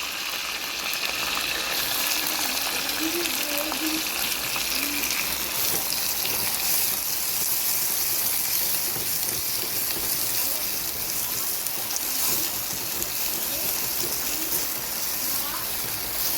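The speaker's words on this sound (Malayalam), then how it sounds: "ഇതിലേക്ക് ഞാൻ ഈ ഉള്ളി ചേർത്ത് കൊടുക്കലാണ്" Onion frying in a pan, a dense, steady sizzle with a hissing, rain-like texture that continues evenly throughout, with faint bird-like chirps in the background and no speech.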